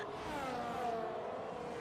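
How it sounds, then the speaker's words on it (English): A race car in a racing video game sweeps past to overtake at the Austrian Grand Prix, its engine whine rising and then sliding down in pitch as it flies by, fairly faint and alone. "Just an absolute flyby overtake that."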